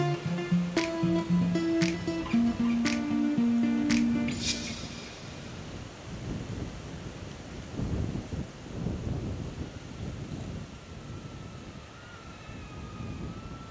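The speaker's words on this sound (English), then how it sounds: "Wow, it is so windy." Gusts of wind buffet the microphone of a DJI Neo drone with low rumbling bursts, following a brief stretch of tonal sounds at the start; no talking.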